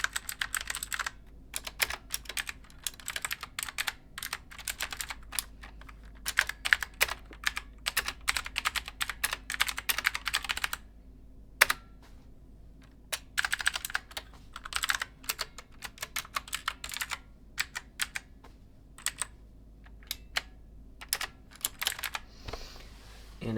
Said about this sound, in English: these blue mechanical switches, very clicky, very loud.